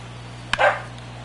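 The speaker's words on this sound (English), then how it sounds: "She's barking now." A single short dog bark rings out, sharp and fairly close, over a steady low hum with no other sounds.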